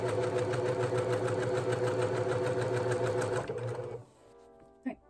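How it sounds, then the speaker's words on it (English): A sewing machine runs steadily and loudly while chain sewing binding onto a quilt, a continuous mechanical whir that stops near the end, followed by a couple of faint clicks. "And this way I can chain sew it without having to worry"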